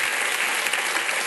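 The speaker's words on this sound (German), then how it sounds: "Dafür erstmal einen großen Applaus" Loud, dense studio audience applause at a German comedy-satire show, a continuous wash of many hands clapping at close range with no speech over it.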